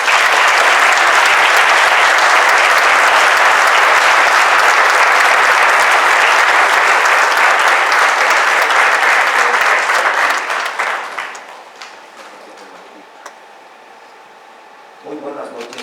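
An audience at a Holocaust remembrance gathering with the Jewish community of Mexico applauds to welcome Aarón Cortés, general pastor of an interdenominational Christian church. The loud, sustained clapping fills about ten seconds, then fades to near silence with a faint stir at the end.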